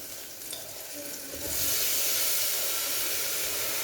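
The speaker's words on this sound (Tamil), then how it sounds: "இப்போ நம்ம வந்து அரிசி பருப்பெல்லாம் சேர்க்க போகிறோம்" Washed, soaked rice and moong dal tipped into water in a pressure cooker for drumstick dal rice, a soft stirring rustle that swells at about 1.5 seconds into a loud, steady broadband hiss, with no talking.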